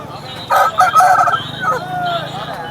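A rooster crows nearby at a poultry market, a loud drawn-out call with a rising then trailing tone, over faint background murmur.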